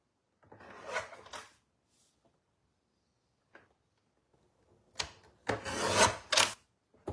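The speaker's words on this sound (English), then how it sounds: "And we're going to trim along the top, eh?" Paper trimmer blade slicing cardstock while making a handmade card: two separate bursts of rasping, scraping strokes, one short pass near the start and a louder, longer run toward the end, with quiet gaps between and no talk.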